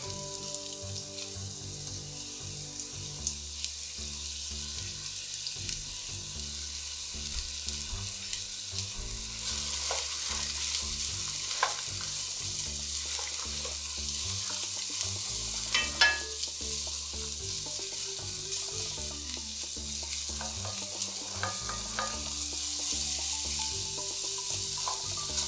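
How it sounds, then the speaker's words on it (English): Garlic, onions and ginger stir-frying in hot oil in a pan, giving a continuous close sizzle for the whole stretch, with light clacks of stirring scattered throughout and no talking. "we are going to add the garlic, onions, and ginger in here. And we're going to stir fry these for about 5 minutes"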